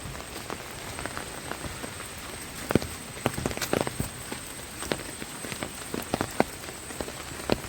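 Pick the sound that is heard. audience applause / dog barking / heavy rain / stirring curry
heavy rain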